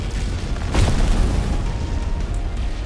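A fiery cannon blast from the Flame Wave Cannon move in the video game The Strongest Battlegrounds, a single loud booming burst that swells and rumbles under a steady background roar.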